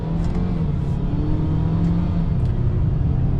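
2025 Ford Maverick Lobo in Lobo mode with its engine whining, a steady mid-pitched drone and rising whir heard from inside the cabin under a low road rumble, no talk.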